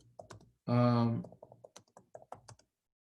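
Typing on a computer keyboard during a lecture, a scattered run of light, close clicks after a short loud vocal sound.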